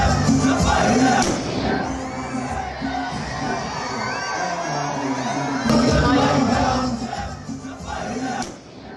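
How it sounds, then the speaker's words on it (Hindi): Crowd of mourners at a funeral in Beirut panicking after explosions, a dense roar of shouting and yelling voices sustained throughout with sharper bursts of cries. "बेरूत के शमशान में धमाकों के बाद भगदड़ मच गई।"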